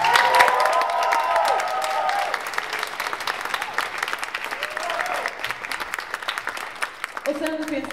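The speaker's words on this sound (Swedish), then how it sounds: "Tusen tack, en varm applåd!" A crowd applauds warmly at the closing of a convention event, loud continuous clapping with some cheering that slowly tapers, and a voice briefly heard near the end.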